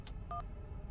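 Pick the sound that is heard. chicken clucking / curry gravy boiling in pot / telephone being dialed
telephone being dialed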